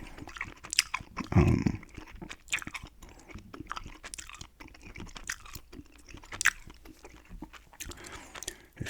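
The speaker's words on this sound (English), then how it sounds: "Gum chewing, of course." Close, moist gum chewing with repeated soft smacks and squelches in an irregular rhythm, intimate and near, with occasional small clicks between chews.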